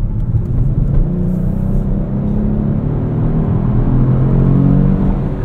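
Engine of a 2018 Kia Stinger GT RWD driving at night, heard from inside the cabin as a steady, loud low rumble and road whir with a slight rise in pitch as it pulls.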